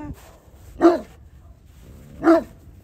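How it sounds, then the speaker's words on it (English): A big male dog barks twice, two loud, close, separate woofs about a second and a half apart with quiet in between. "It's a big dog."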